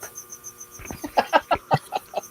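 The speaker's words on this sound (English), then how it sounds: "Yeah, those crickets are still here." Crickets chirp in a steady, evenly spaced rhythm in the background, faint and continuous, while louder irregular knocks and taps come through closer up.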